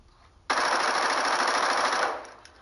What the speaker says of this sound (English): but the gunshots sound a little more tinny